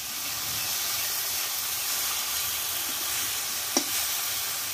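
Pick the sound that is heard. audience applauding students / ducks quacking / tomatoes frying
tomatoes frying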